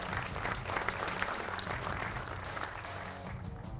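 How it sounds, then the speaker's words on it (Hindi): A studio audience on a Hindi television political debate show claps throughout, giving sustained, even applause that welcomes guests, fairly full and close with no speech on top. "तालियों के साथ स्वागत कीजिए।"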